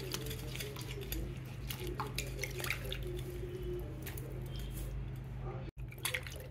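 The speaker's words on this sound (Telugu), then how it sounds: "ఇప్పుడు వాటర్లో వీటిని క్లీన్ చేసేసుకుందామండి" Wet squishing and sloshing as mushrooms are rubbed and rinsed in water, with soft drips over a steady low hum.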